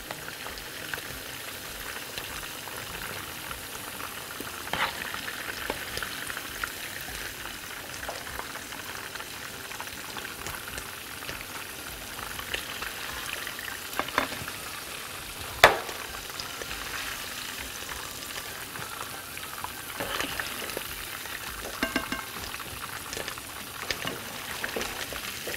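Liver frying in a pan and being stirred now and then, a steady close sizzle with scattered crackles and a few sharp scrape or tap sounds, no talking.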